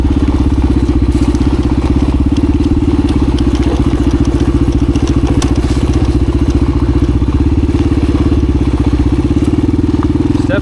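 A 1985 Honda XR350R dirt bike rides a trail in first gear. The single-cylinder engine gives a loud, steady, thumping drone close to the microphone, with wind buffeting and faint crackles over it.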